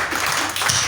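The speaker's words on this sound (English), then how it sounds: "I want to hear you clap louder." A church congregation clapping together, a brief dense patter of many hands at steady loudness.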